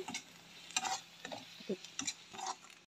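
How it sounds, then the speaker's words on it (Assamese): Onions fry quietly in a pan for fish curry while a utensil stirs them, making scattered scraping clicks over a faint, low sizzle. "সেয়া পিঁয়াজ ভাজি আছোঁ"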